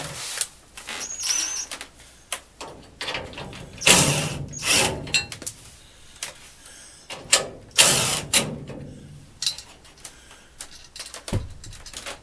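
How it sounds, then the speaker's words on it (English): A ratchet wrench loosens the bolts holding a furnace blower fan in place, producing short bursts of close mechanical clicking and metallic clatter with brief pauses between them. "I have to take out the front bar and the bolts holding the fan in"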